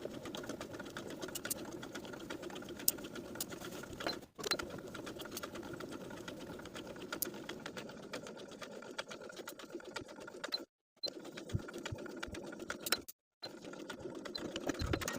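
A sewing machine runs in a fast, rattling stitch as a sleeve ruffle seam is sewn, heard close in steady bursts broken by a few short pauses.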